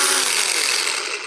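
An electric sander with speed control, one of the tools used on a small farm, gives a loud, continuous close-up whirring rasp that eases off slightly at the end.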